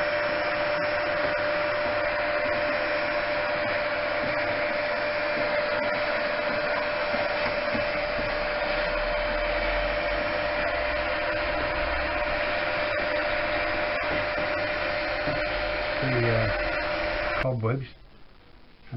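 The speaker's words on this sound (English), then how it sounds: "I think I'll use a paintbrush and a vacuum cleaner to get all that muck out of there." A vacuum cleaner, used to clean muck out of an electronic keyboard under repair, whines steadily and loudly, droning on without a break before shutting off abruptly near the end.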